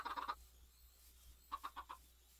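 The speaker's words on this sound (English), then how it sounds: "There's my little chickens growing." Chickens in the Minecraft FTB Tech World modpack cluck in two quick bursts of four or five soft notes each, separated by a brief pause.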